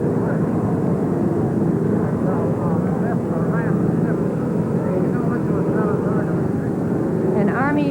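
Army helicopter landing near a presidential honor guard in Washington, its loud, steady rotor and engine roar filling the scene continuously, with voices and crowd talk underneath.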